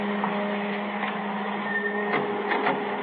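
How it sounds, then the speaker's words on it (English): A photo print dryer runs steadily in a police station darkroom, giving a continuous mechanical hum with faint clicks and rattles throughout, with no voices over it. "Kill that dryer, will you?"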